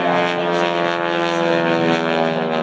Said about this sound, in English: the super steerman pulls up into a beautiful hammerhead turn, or the cropbuster turnaround as they like to call it